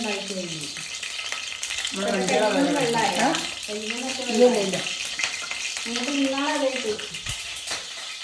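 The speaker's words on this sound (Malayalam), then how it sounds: "ഇത് പരിപാടി എണ്ണ തെറിക്കുന്നൊക്കെ ഉണ്ട്" Food frying in hot oil with a continuous sizzling, spattering hiss, heard close throughout while a voice talks over it in several stretches.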